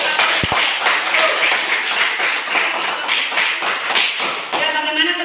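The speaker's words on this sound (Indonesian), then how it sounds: "tepuk tangan untuk kelompok." A school classroom claps for a group that has just finished presenting, with loud, close, irregular hand claps and a few thumps sustained for about five seconds before fading, and a voice heard faintly at the end.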